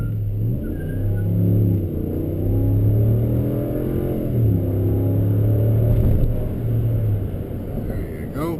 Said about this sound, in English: the acceleration and the transmission shifting is just phenomenal